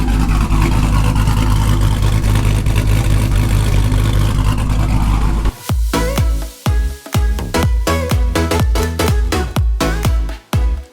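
A Dodge Dakota R/T pickup truck engine roars loudly from inside the cab while driving, holding a steady drone before breaking into a series of sharp revs, pauses and surges as the driver pushes it hard.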